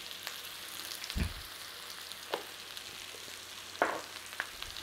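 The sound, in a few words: leek and garlic frying in butter with thyme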